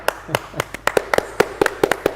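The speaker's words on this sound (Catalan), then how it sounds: "des d'on sigueu, un aplaudiment per la gent del DOCS i pel Joan." Scattered handclaps from a small group at a film festival closing ceremony, a dozen or so sharp separate claps in an uneven rhythm, close and loud, with no voices over them.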